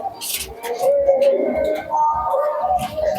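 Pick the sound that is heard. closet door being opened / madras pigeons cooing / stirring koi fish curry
madras pigeons cooing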